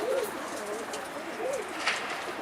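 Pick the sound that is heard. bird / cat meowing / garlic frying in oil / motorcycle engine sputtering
bird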